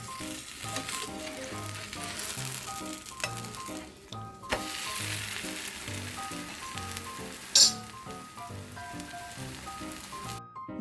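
A radish dosa sizzling on a hot pan after being flipped, a continuous close crackling fry with scattered pops and a brief scrape near the end.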